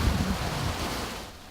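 Cold water rushing along a stream between steep banks, a steady broadband roar with no voices.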